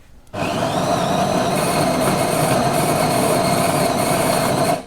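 A Jura E6/E8 coffee machine, idle for a while, starts up and grinds or pumps with a loud, steady mechanical whir that runs several seconds before cutting off.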